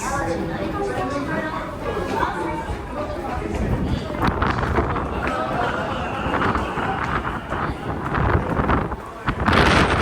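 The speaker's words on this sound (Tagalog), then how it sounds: "Grabe yung hangin guys, kung alam nyo lang, napakalakas" Strong wind buffeting the microphone in loud, rough gusts, with people talking and chattering underneath.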